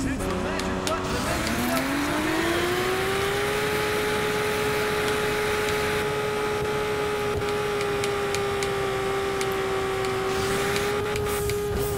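A race car engine revs in the Juiced 2 racing video game. The pitch climbs over the first few seconds, then holds a loud, steady, high drone that continues throughout, with only slight pitch shifts near the end.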